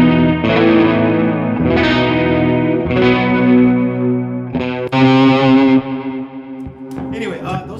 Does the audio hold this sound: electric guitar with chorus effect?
yes